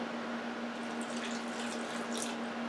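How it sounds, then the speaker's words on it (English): About three ounces of water poured into a pressure cooker pot with broth base to start a gravy paste, a soft, steady close trickle over a constant mechanical hum. "I'm pouring half first so I can make a paste."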